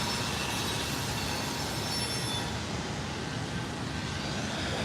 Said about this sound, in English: it's not often that I get drowned out by a freaking train like this either.